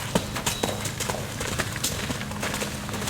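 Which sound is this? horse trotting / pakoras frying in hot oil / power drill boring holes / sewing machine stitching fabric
horse trotting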